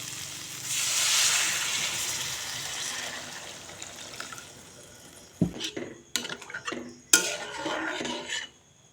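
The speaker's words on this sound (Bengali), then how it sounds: "আলু দিয়ে আবারও এক দুই মিনিট মতো কষিয়ে নেব" Fried potatoes are sautéed in a pan for a masoor dal bora curry, starting with a soft hissing sizzle that fades, then sharp metal clanks and scrapes of a spoon against the pan near the end.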